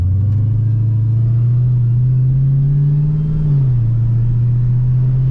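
Dodge Hellcat cruising through a residential neighborhood, a steady low engine drone and road rumble from inside the car, pitch easing slightly as it slows, with no talking.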